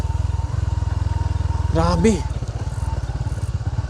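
Rusi motorcycle engine chugging steadily while riding a rough rural road in Sitio Macaingalan, Puray, with a rhythmic thumping exhaust close by and someone speaking briefly over it.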